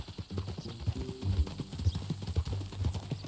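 Horse hooves clip-clop in a steady, close, uneven rhythm on a ranch trail in the Red Dead Redemption 2 game, the footfalls loud and continuous with no voices over them.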